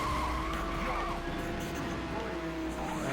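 A toy-style race car in Hot Wheels World Race skids on the handbrake, with loud sustained tire squeal over a revving engine, continuous across the moment.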